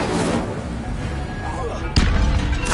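Incendio fire spell cast in Hogwarts Legacy, with a sharp burst about two-thirds through over a steady game soundscape.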